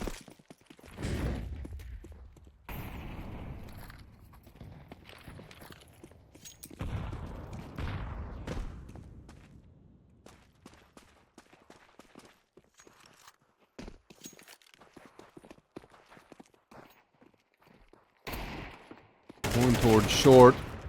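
Shooter video game gunfire in an esports match, short bursts of shots separated by quiet stretches and faint footsteps, ending in a louder, denser volley.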